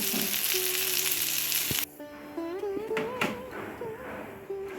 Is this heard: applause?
no